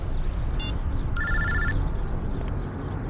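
A telephone rings in two short electronic trills over a constant hiss of background noise.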